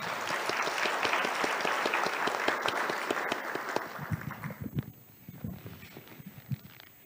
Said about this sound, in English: Maybe a clap for the panelists.